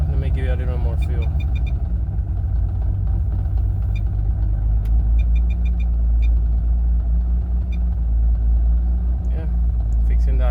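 Car engine idling under a FuelTech FT450 engine management unit, a steady loud low rumble with faint fluctuations as the idle settles, continuous throughout with brief ticking sounds.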